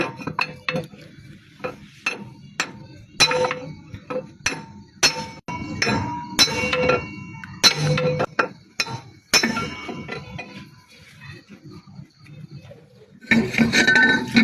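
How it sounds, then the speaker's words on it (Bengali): Cylinder liner being removed from a 12-horsepower model 195 power tiller engine: irregular sharp metallic clinks, taps and knocks of tools on engine parts, close and fairly loud, with short quiet gaps between strikes. "এখন লাইনার খুলতেছি"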